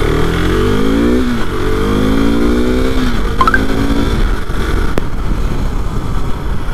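KTM RC 390 motorcycle riding on a highway, its engine loud and close, revving with rising pitch sweeps through gear changes, a continuous strong roar with no talk.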